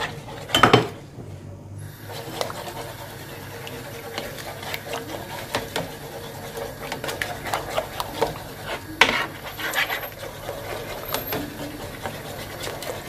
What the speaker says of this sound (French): je vais rajouter les œufs en mélangeant bien